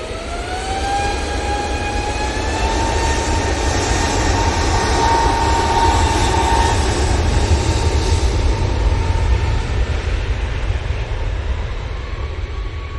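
An easyJet jet airliner takes off at Manchester Airport, a loud, steady roar with a whining tone that climbs in pitch early on, then holds and slowly fades.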